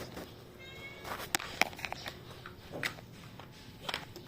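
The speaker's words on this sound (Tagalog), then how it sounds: "It's a real cat." A few faint, short cat meows scattered over a few seconds, mixed with soft rustling and movement nearby.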